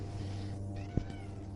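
A house cat gives a single short meow over a steady low background hum.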